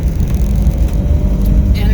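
Van driving through Los Angeles traffic toward evening, a loud, close engine and road rumble from inside the cabin, steady throughout with a voice talking over it.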